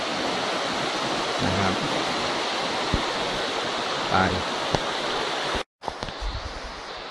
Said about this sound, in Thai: นี่คือปลายน้ำตก